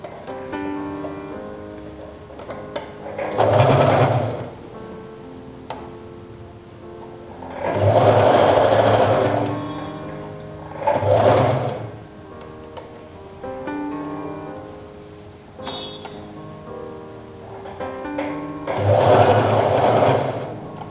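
A sewing machine runs in several bursts, stitching a Chinese collar onto a jacket, each run a few seconds of rapid whirring with quiet pauses and faint handling clicks between.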